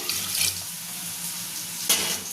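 Water pours into a pressure cooker holding halved potatoes in a home kitchen. It is a brief, steady splashing rush close by, with a slightly louder gush near the end.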